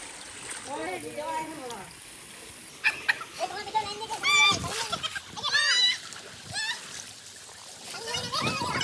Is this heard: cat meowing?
no